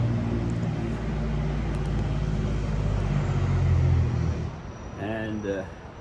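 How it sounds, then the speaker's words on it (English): Heavy trucks crossing the I-80 highway bridge at the New Jersey border give a steady, loud low rumble of traffic that fades toward the end, with a voice speaking briefly at the close. "Oh my God, the trucks on the bridge."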